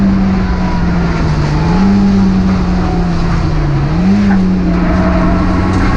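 Hyundai Coupe race car engine droning loudly from inside the cockpit as the driver goes down the gears on track, the pitch dipping and rising with each downshift over steady road and wind roar.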